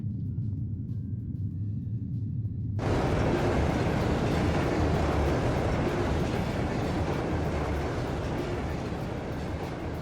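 The Eisengraf train from Trails of Cold Steel runs past with a dense, steady roar and rumble of wheels on rails, swelling suddenly after a quieter low hum and staying loud throughout.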